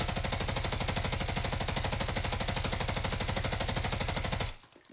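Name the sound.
light machine gun firing rounds into a wall, Warzone video game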